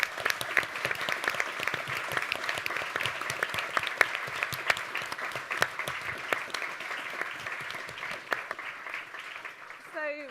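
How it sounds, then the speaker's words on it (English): An audience at a climate policy debate applauds in a sustained, dense wash of clapping that holds steady for about ten seconds and fades a little at the end. "please join me with a round of applause for Guy"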